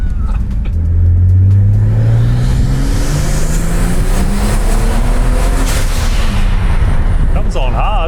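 A Ford XR6 Turbo engine revving hard on a dyno, pulling up through the rev range with a rising, loud, sustained roar and a rough turbo rasp that holds steady close by, then eases off near the end.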